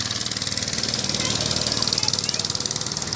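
A small mini bike engine runs steadily nearby with a rapid, even putter and a slightly rough knock, its choke set at half, while people talk briefly over it.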